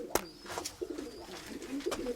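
Pigeons coo softly and close by in a loft, several low throaty calls with faint rustling and clicks between them, and no talk.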